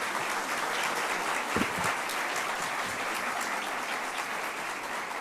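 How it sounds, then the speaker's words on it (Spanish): Audience applause for a speaker at a keynote conference, dense steady clapping from a crowd sustained throughout at moderate distance. "Y que se oiga el aplauso, por favor."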